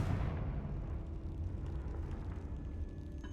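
A Confringo explosion spell in a wizard video game goes off with a heavy, rumbling boom that hits at once and then trails into a long, low roaring decay.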